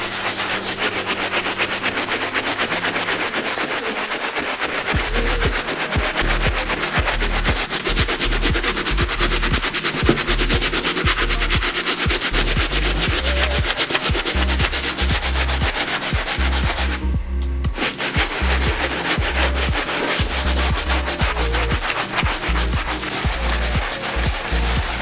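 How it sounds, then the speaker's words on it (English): A medium bristle brush scrubs a dirty sneaker in fast, steady back-and-forth strokes, close and loud, with a rhythmic rasping that runs almost continuously and pauses only briefly once. "Now I'm gonna move on to the medium bristle brush."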